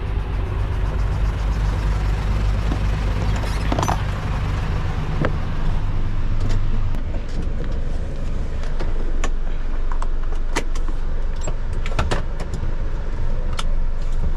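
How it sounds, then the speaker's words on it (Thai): A loaded truck shifts into first gear and pulls away, its heavy low engine rumble loud and close for the first half before dropping back, with scattered clicks and knocks from the cab and no talking. "นี่เขาเกียร์หนึ่งไปลองเนี่ย จังหวะเข้าเกียร์หนึ่ง"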